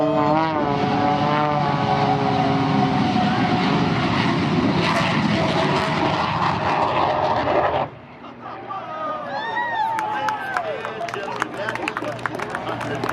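An Extra 300 aerobatic plane performs at the Wings over Houston airshow, its loud propeller engine droning steadily overhead with shifting tone before dropping off sharply, leaving a quieter crowd and scattered sounds behind.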